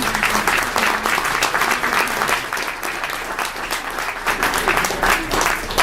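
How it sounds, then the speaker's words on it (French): At a ceremony for French-language excellence prizes, an audience applauds the winners with a broad, continuous wash of many clapping hands, steady and even for several seconds, heard from within the hall. "Merci, on les applaudit, on les applaudit."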